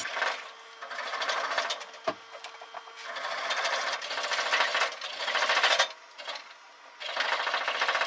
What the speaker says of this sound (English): So now I'm going to just kind of go around this part a little bit with a file